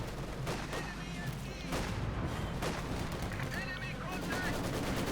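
Rapid bursts of machine-gun and rifle fire crackle through a busy World War II battle in Company of Heroes 2, with Soviet Maxim gunners under attack, dense overlapping volleys with no clear pauses.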